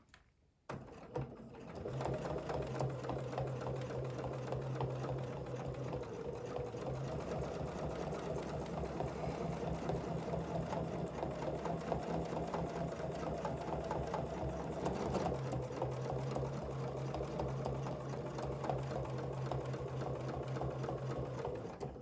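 Domestic sewing machine quilting along a ruler, a steady fast mechanical stitching hum running continuously for about twenty seconds after a short start, close and clear.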